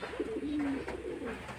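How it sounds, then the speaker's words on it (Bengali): A pair of pigeons coo softly up close, giving a brief, low rolling call over quiet surroundings. "দেখুন পায়রা দুটো দেখছেন"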